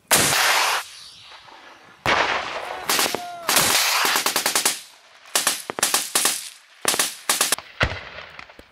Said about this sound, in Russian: Вот выстрел из гранатомета, сигнал открытия огня.